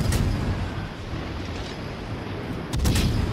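Warship artillery firing in the World of Warships Legends video game, a loud, dense rumbling roar of heavy gun blasts that swells again near the end.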